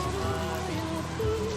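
Water poured in a steady stream over a shelter to mimic a downpour, a continuous close splashing and drumming across the whole moment with low tonal hum underneath and no clear talk.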